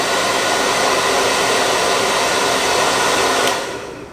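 A Petietec Handily2 hands-free pet dryer running on high gives a loud, steady broadband roar close to the recorder, cutting off abruptly near the end.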